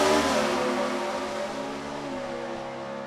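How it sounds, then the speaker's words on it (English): A 4-cylinder Chevrolet engine in a Ford Escort-bodied drag race car drones steadily at the strip in Bowling Green. The engine sound is continuous and fairly loud, easing off slightly as the car gets farther away, with no talk. "you can hear that little 4-cylinder buzzing down there, can't you?"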